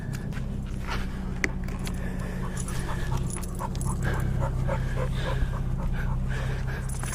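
A dog pants rapidly and rhythmically while resting in the shade beside a boat outdoors, the breathing close and steady over a low background hum, with faint scuffs and small whimpers.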